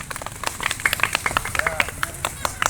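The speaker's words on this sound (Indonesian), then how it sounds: "Tepuk tangan untuk kita semua." Children in a classroom clap in scattered, uneven bursts, fairly close by, while voices talk over the clapping.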